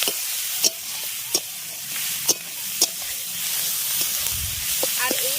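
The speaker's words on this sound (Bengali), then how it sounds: "এবার মশলাটাকে ভালো করে একটু ভাজা ভাজা করে নেবো পেঁয়াজ কলিগুলোর সঙ্গে সর্ষে বাটা" Mustard paste and spices fry with onion stalks in a pan for a pond snail curry, a soft steady sizzle broken by several sharp clicks of a spoon against the pan and a brief low scrape near the end.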